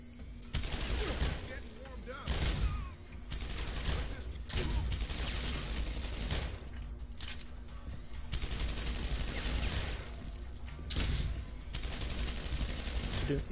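Shotgun blasts and gunfire in Deus Ex: Human Revolution, a dense, loud run of shots and mechanical clatter across the whole stretch, with a few sharper bursts standing out, mixed with game effects and a voice talking.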